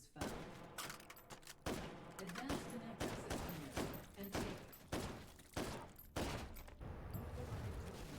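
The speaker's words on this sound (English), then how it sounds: "Anti-material rifle with a suppressor for longitude." Repeated heavy gunfire from a suppressed anti-materiel rifle in a video game, a rapid series of sharp thumping shots at an uneven pace, fairly faint, with other game sounds underneath.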